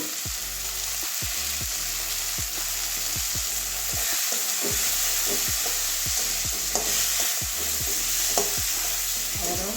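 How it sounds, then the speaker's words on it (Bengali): Prawns sauté with a little turmeric in a pan over medium heat, a loud continuous sizzle punctuated by regular, rhythmic scrapes of a spatula stirring. "টমেটোটা পরে দেবো ওই জন্য মাছটা ভালো করে কষিয়ে নেব হলুদ দিয়ে দেবো একটু"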